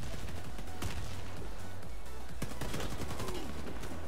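Rapid bursts of gunfire from the online shooter Warface, with sharp shots and short automatic volleys over a steady background of game ambience.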